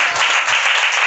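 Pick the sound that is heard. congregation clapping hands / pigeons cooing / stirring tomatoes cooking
congregation clapping hands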